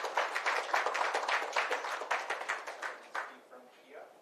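An audience at a live corporate awareness-week event claps in a dense, even round of applause that fades out near the end.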